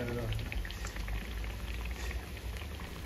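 Brinjal bajji, battered eggplant fritters, fry in hot oil with a continuous dense sizzle and crackle. The sound is steady and close throughout, with no talk.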